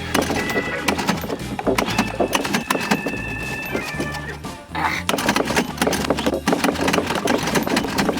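A boat engine starts and runs steadily and loudly throughout, with a brief dip midway before it roars back to full throttle, rumbling low and continuous.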